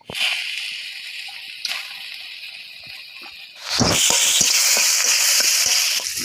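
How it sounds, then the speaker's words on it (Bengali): Ripe and raw tomatoes frying in a pan with cumin, bay leaf, onion and split green chillies. A steady sizzle jumps to a loud, dense crackle partway through and then holds strong. "এবার কিছুটা পাকা টমেটোও ভেজে নেব ওর সঙ্গে"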